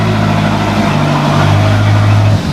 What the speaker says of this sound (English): Sounds like it's got an exhaust leak